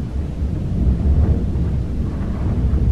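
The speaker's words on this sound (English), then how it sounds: "I've never heard a storm quite like it before." A powerful windstorm in Iceland roars without a break, a dense low rumble of strong gusts buffeting the microphone, loud and close throughout.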